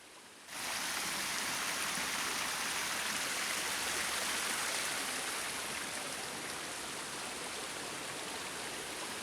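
Flowing river water and splashing fountains in the Tirta Ganga royal water garden in Bali, a steady, full rushing wash that holds evenly throughout with no voices.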